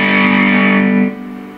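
An electric guitar played through a distortion effect on an iPad rings out as one loud, sustained, buzzy chord that holds for about a second, then cuts off abruptly.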